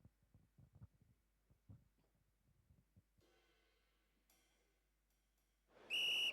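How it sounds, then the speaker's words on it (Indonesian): After quiet soft thumps and a faint hum, a sharp loud whistle blast sounds near the end, shrill and sustained for about half a second. "Peluit sudah dibunyikan, pertandingan telah dimulai."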